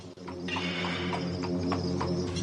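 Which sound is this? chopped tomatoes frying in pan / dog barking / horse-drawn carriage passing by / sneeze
horse-drawn carriage passing by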